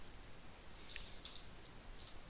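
A few soft, scattered key clicks come from typing on a computer keyboard, faint and close in a quiet room.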